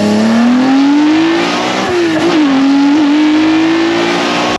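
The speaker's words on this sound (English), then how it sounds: "The iconic old school NSX and the sound that comes out of that exhaust." Classic old-school Honda NSX exhaust revving close and loud, a steady rising engine note with a brief dip and recovery midway before cutting off abruptly at the end.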